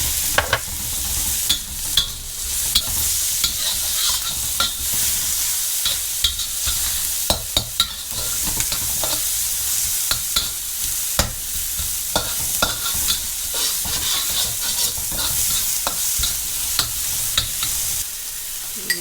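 Onion frying in grapeseed oil sizzles with a steady, hissing crackle, while a utensil stirs and scrapes the pan in frequent clicks throughout.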